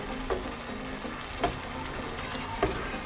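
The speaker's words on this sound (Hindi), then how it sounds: "अब छोले डाल के भी हम थोड़ा सा इसको भूनेंगे" Chickpeas stirred and fried with masala in a pan for Lahori cholay, a steady close sizzle with a few sharp clinks of a spoon against the pan every second or so, no talking.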